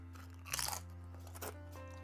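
Crunchy Japanese potato crisps are bitten and chewed close to the mic, giving a sharp crunch near the start and a softer second crunch a moment later, all quite faint.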